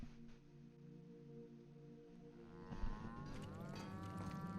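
Cattle low in The Outer Worlds, several drawn-out harmonic moos sounding together at steady volume, with a rising tonal call joining partway through.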